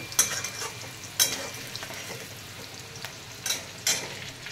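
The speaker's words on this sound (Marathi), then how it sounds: "थोड्या वेळ आपण कांदे भाजून घेऊया अगोदर, तोपर्यंत लाल होत नाही तोपर्यंत." Onions fry in a pan for spicy chicken, a low steady sizzle punctuated by several sharp spatula scrapes and clanks, close up with no voices.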